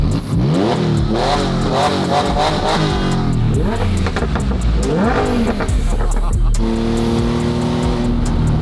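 A Porsche 997 engine revs repeatedly, loud and close, pitch sweeping up and down in several bursts before settling into a steady idle.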